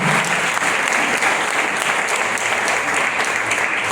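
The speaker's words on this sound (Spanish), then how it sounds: "démosle ese nuevo aplauso a nuestro Rey" A church congregation applauds together in steady, dense clapping that fills the room, loud and continuous throughout with no one speaking over it.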